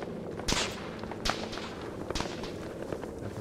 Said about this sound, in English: Definitely gunfire going off, obviously.